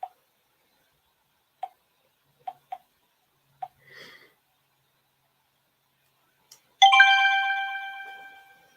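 A phone gives several short notification pings in a sparse, irregular series, then a louder, ringing chime that decays slowly, all quiet and close with no talking.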